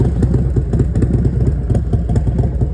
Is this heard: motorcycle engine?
yes